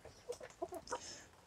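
A free-range breeding rooster and hens cluck in a series of short, close, uneven calls on a small self-sufficient farm, with no talk over them.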